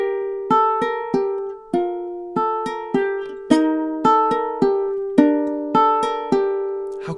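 Two measures of a Christmas melody are picked on a ukulele, a steady run of around fifteen bright plucked notes that ring and decay, with a descending bass line, played close and alone.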